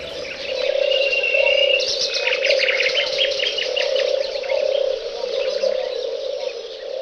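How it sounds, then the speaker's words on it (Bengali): Birds calling in the Lawachara National Park forest: several chirps and tweets overlap above a continuous droning insect hum, with a brief whistled note early on. The dense, steady chorus sounds close and fairly loud. "তবে নাম জানা এবং না জানা অনেক পাখির ডাকাডাকিতে মন হবে মন্ত্রমুগ্ধ।"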